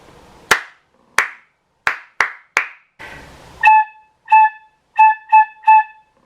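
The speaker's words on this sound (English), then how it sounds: "clap a really simple rhythm for you to copy on the head joint, like so." Hands clap a simple rhythm, five sharp, separate claps in a dry, quiet room, followed by a flute head joint being blown in matching short, clear tones.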